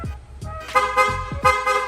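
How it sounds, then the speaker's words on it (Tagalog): A few short, sharp motorcycle horn toots in quick succession, close by, on a Yamaha Mio i scooter over a low engine rumble. "Okay, rapid horn."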